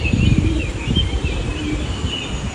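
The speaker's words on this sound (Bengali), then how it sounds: "এই যে আমার কবুতর, ওরা গোসল করছে আজকে।" Pigeons cooing during a heavy rainstorm, soft repeated coos close by over a constant wash of rain noise.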